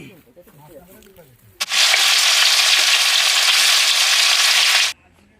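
Koi fish hitting hot oil, a sudden loud hiss that bursts in and holds as a steady roar for about three seconds before cutting off, with faint talk at the start.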